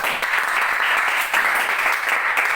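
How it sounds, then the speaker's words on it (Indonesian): Sustained classroom applause from a group of students in an Islamic moral studies lesson, a steady dense wash of clapping throughout with no gaps. "berikan tepuk tangan untuk Faisal."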